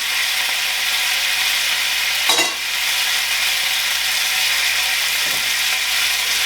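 Butter melts and sizzles in a medium-high pan with leftover beef sauce for beef stroganoff: a steady close hiss, with one brief scrape or clatter in the middle.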